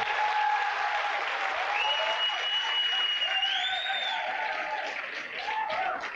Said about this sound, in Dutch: geef ze een geweldig applaus aan.